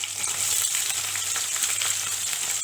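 Chopped onions sauté in a pan for a masala curry, giving a steady, close sizzle with dense crackle that holds evenly throughout, with no voices.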